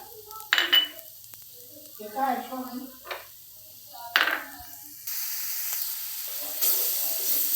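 Onion browned red for kofta curry sizzles in hot oil as red chili powder goes in, a hissing spray of frying between stretches of talking.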